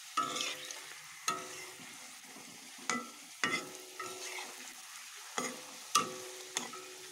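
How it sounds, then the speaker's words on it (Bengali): Stuffed dough pieces frying in hot oil in a wok produce a soft, steady sizzle, broken by repeated sharp scraping and clinking strokes of a utensil roughly every half second to second. "এখন ভাজব পুরোটা, তার লেগে কড়া বসিয়ে দিয়েছি, তেলও গরম হয়ে গেছে।"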